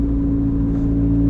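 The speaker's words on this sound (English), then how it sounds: "every time I push on the gas pedal, my smile" A Lotus Exige S with its 1.8-liter four-cylinder engine drones steadily and close, a sustained even engine tone held throughout the short moment without talk.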